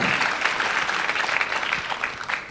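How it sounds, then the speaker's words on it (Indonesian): Church congregation clapping, a dense, steady burst of applause from a large crowd filling the room for a couple of seconds. "Ayo berikan tepuk tangan."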